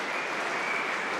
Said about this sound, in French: les gens qui applaudissent l'effort de ces deux athlètes